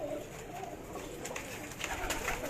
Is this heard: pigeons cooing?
yes